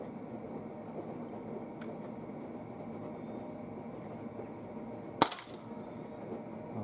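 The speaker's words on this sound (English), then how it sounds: "CO2 is pretty distinctive in the cold first shot." A Springfield Armory XDE CO2 air pistol fires one sharp, loud pop outdoors in cold weather. A faint click comes earlier, over a steady background hum.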